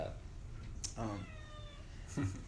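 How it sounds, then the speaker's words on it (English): A house cat meows twice, a rising then falling call near the start and a shorter one at the end, close by against faint room background with quiet voices nearby. "hey kitty, it's our third guest right here, Amelia"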